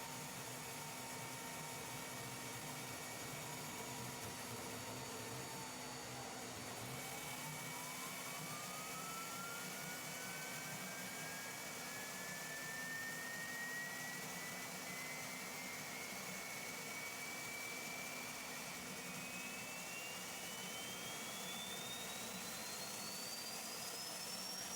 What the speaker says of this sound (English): the propane flow is slowly increased into the engine until it no longer sounds like it is accelerating